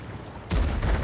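A tank gun fires in the World of Tanks video game, giving a single heavy, booming shot with a short rumbling tail over steady game background noise.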